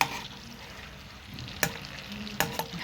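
Peeled boiled eggs frying in oil in a pan, a steady soft sizzle with a few sharp clinks and scrapes of a utensil, close and quiet.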